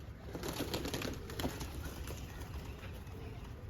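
Pigeons coo softly and steadily across a rooftop loft, a low rolling murmur running under a constant outdoor hiss, with faint wing flutters mixed in.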